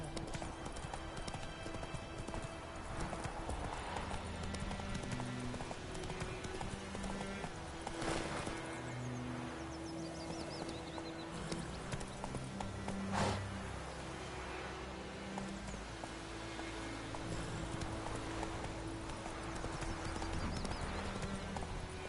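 Hooves of Roach, the horse in The Witcher 3, clip-clop steadily at a gallop through a game world, a continuous rhythmic patter under a dense layer of ambient sound, with no speech.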